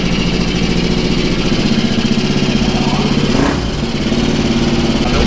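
Honda Titan motorcycle engine strapped down on a dynamometer, running loud and close with a steady, throbbing mechanical drone that briefly shifts in pitch near the middle.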